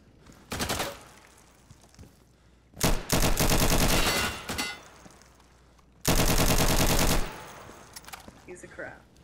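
Fully automatic gun in Garry's Mod fired in three loud sustained bursts, the first short and the next two longer, with quiet gaps and faint voices between them.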